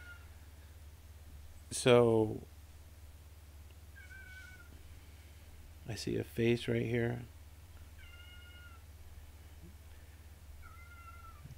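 A cat meows twice, one single cry and then a longer multi-part meow, fairly close, over a quiet background, with a person talking softly in between.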